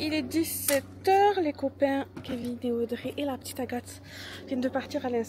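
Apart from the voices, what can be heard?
No distinct noise like a dog, phone or traffic.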